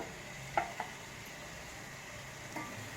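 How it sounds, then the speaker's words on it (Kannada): Boiled potatoes dropped into hot oil for a potato roast sizzle quietly, with a couple of sharp scraping stirs of a spatula in the pan near the start and another soft scrape near the end. "ಅಲ್ಲಿ ಎಣ್ಣೆ ಬಿಟ್ಕೊತ ಇದೆ ಇವಾಗ ಹಾಕ್ಬಿಡ್ತೀನಿ ಆಲೂಗಡ್ಡೆ"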